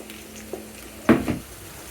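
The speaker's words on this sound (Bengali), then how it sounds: "রসুন কুচি আদা কুচি পেঁয়াজ কুচি হালকা একটু ভেজে নিব" Chopped garlic, ginger and onion being fried in a pan, a soft sizzle with a couple of brief clinks and scrapes of a utensil stirring, close and quiet.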